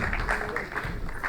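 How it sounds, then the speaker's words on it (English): A panel discussion audience at an animation film festival applauds in a soft, distant wash of clapping that stays steady and low through the short moment, with no voices rising above it. "A round of applause for them, please."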